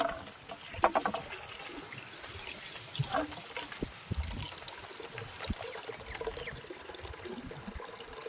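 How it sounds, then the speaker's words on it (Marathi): Water runs steadily from a farm pump motor that was left switched on, a soft continuous flow and trickle heard close by, with a few faint knocks and rustles. "बापरे, पाणी चालूच आहे. मोटरच बंद करायची लक्षात नाही मित्रांनो."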